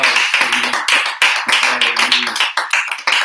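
A church congregation claps loudly and steadily in close, overlapping applause, with a few brief pauses between bursts.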